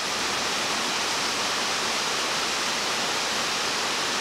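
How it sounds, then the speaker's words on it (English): A constant broadband rush of falling rain, unbroken and even throughout, with no voices. "We got some thunderstorms rolling in tonight."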